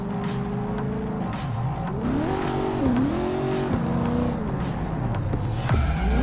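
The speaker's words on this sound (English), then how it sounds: "car is a super-powered sports car running on Chew-2, the super fuel of the future" A futuristic super-powered sports car in the Cyberpunk 2077 game, running on Chew-2 fuel, drives through Night City with a steady engine drone that rises and falls in pitch as it revs and shifts, loud and close throughout.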